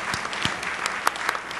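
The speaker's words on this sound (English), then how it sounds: "One round of applause again to our plenary session 1 panel." Applause from a conference audience for a plenary session panel, a brief, steady burst of many hands clapping with a few sharper claps standing out.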